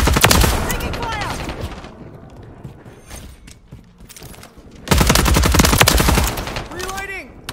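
Rapid automatic gunfire in Modern Warfare 3, loud bursts of rattling shots with mechanical clicks, dropping to quieter distant fire midway before another close, intense burst resumes; shouted voices mix in.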